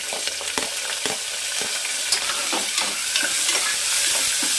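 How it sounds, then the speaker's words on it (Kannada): Onions and green chillies fry in hot oil with peanuts in a pan, giving a steady close sizzle broken by frequent stirring scrapes and taps, with no one speaking. "ಈಗ ಇದಕ್ಕೆ ಈರುಳ್ಳಿ ಹಾಗೂ ಹಸಿಮೆಣಸಿಕಾಯಿ ಸೇರಿಸ್ಕೊಳ್ತಾ ಇದ್ದೀನಿ."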